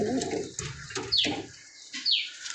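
Pet pigeons cooing at close range, a few soft low coos with brief pauses and a couple of light rustles, no talking.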